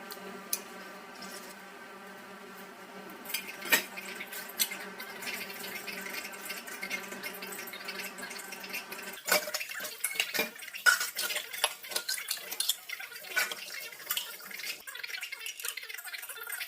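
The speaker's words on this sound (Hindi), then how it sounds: "तो बस अभी बर्तन साफ हो गए हैं" Dishes, pots and pans clatter in a home kitchen with sharp, irregular clinks and scrapes, moderately close. The metal clanks grow busier in the second half over a steady background hum.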